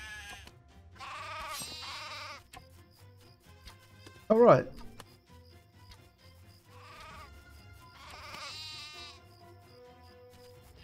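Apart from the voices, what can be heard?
sheep bleating in video game Craft The World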